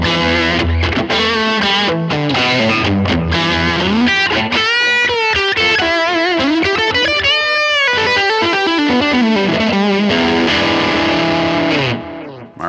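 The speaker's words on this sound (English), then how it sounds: "take that Chandler Tube Driver with those exact same settings and plumb it into the Fender Tweed Blues Norm" An overdriven electric guitar runs through a Chandler Tube Driver overdrive into a Fender Tweed Blues Norm amp model, playing a continuous loud distorted lick with bends and sustained notes, close and alone.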